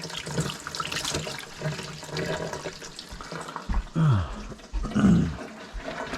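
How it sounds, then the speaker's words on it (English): Fish fillets rinsed under a running tap for brining: a steady rush of water with splashing surges toward the end and brief voice-like sounds near it. "If they look like they need a rinse, I give them a rinse and shake out the water and put them in."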